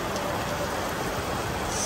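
Heavy rain pours steadily at an outdoor pool area, a dense continuous hiss of downpour with no talk and no breaks.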